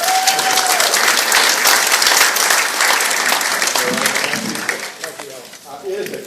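An audience at a ward referendum issues forum gives Ellis Hankins a loud, sustained burst of applause that thins out and fades near the end as a voice begins.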